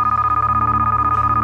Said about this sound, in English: All right, I'm getting a phone call again.